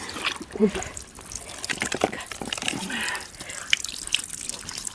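Hands being rinsed under running water from a tap, a light wet splashing and dripping trickle that continues through the clip beneath people talking nearby in a rural home kitchen.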